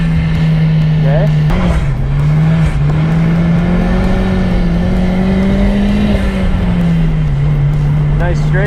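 A car driving around a race track, its engine droning loud and close in a continuous rising and falling tone, with a person talking over it from inside.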